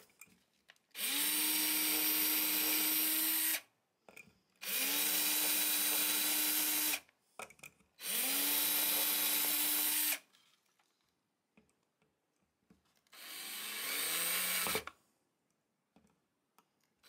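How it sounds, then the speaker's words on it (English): A power drill bores pilot holes for screws in a guitar neck during an archtop rebuild, four steady whirring runs of about two to three seconds each, separated by short pauses, close and clear with no talking. "And then we just put the pilot holes for the screws"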